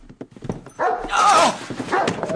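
A dog reacts to an ultrasonic whistle with a short run of close, loud barks and whimpering yips, the sounds bunched in quick bursts.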